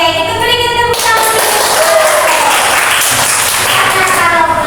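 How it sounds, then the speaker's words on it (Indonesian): Children clapping together in a classroom during a maths lesson: after a brief voice, a loud, dense burst of clapping starts about a second in and carries on to the end. "Oke, itu berikan tepuk tangan."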